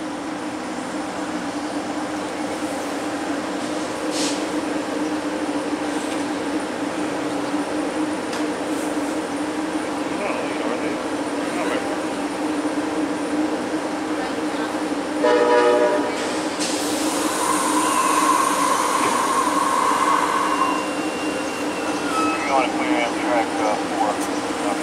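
Amtrak's Southwest Chief passenger train pulls out of Fullerton station amid a steady rumble, then its horn sounds loudly for several seconds, with radio voices heard over the train noise.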